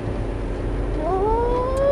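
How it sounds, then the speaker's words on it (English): A car drives past, its engine note climbing in pitch and growing louder over a steady low road rumble in the final second. "That was a car going past."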